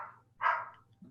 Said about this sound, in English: Lord, I gotta get my wife to shut up the dog.